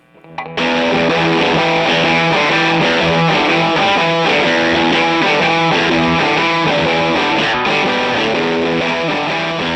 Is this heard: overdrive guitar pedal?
yes